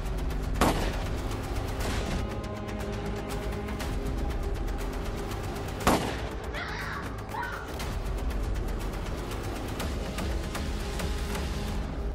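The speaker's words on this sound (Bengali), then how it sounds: "লুইস একটা সুন্দর পরিবারের দরজার সামনে গিয়ে হঠাৎ গুলি চালায়" Gunshots ring out in a horror film scene as a man fires at a family's front door: two sharp, loud reports a few seconds apart, each standing out over a continuous low, droning musical bed.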